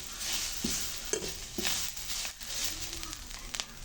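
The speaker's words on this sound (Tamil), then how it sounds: "இப்போ பாருங்க தேங்காய் நல்லா வதங்கிட்டுது" Grated coconut sautés in a pan with a steady frying hiss and repeated scraping stirs of a spoon, with a soft cooing bird in the background and no talk.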